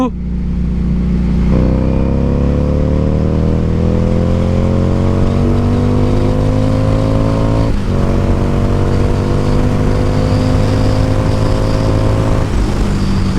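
A Harley-Davidson Street 750 motorcycle revs and accelerates. Its loud, close exhaust climbs steadily in pitch through the gears, with brief drops at each shift.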